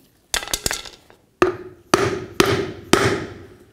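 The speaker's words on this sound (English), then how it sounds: "I'm going to use a flat piece of wood over it and then I'm going to hammer this down." About a half-dozen sharp hammer blows strike a flat piece of wood laid over a hub assembly on a 1999-2007 Ford Super Duty F-250 rear axle, each a loud, ringing impact spaced roughly half a second apart.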